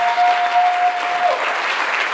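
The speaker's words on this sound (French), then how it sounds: "un tonnerre d'applaudissements déjà pour eux" A hall audience gives steady, dense applause for volunteers at an evening sustainable entrepreneurship event, with a faint tone held underneath.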